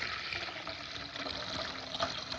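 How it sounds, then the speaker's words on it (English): Water runs from a household tap in a steady, close, moderately quiet flow with a continuous splashing hiss and no voices. "give the housewife a good tap, and the water will come on quickly"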